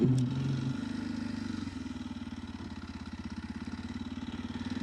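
A KLX230 motorcycle engine runs steadily while riding on a mountain road near Castle Lake, a loud, even low throb with rapid regular pulsing that stays close and continuous throughout, with no voices.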